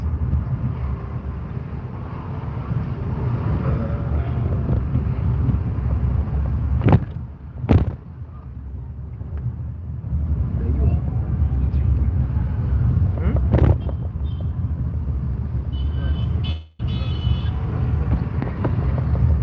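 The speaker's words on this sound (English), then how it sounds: "I'm driving on Bombo Road." A car drives through evening traffic on Bombo Road, a steady low engine and road rumble running throughout with a few brief sharper bumps, someone talking over it.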